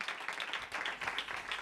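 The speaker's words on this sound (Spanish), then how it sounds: "Un aplauso." Faint, steady audience applause at an acoustic concert, a patter of many hands clapping heard from a distance with no talking over it.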